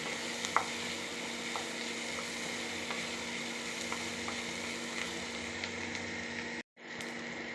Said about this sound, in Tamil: வாசனை வர போகிற வர நல்லா வதக்கணும்